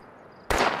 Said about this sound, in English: That's the assault shotgun.